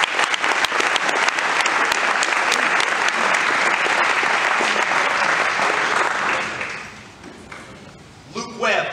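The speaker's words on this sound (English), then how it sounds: "Give him a round of applause." A school sports banquet audience gives a sustained round of applause for an academic all-state player, dense clapping filling most of the stretch before fading, with brief voices at the end.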